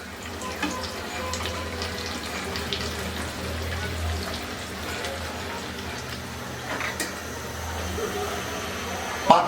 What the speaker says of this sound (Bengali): তেল গরম করে তার মধ্যে এগুলাকে দিয়ে চিপস আমরা যেভাবে ভাজি সেইভাবে এগুলাকে ভেজে নিতে হবে।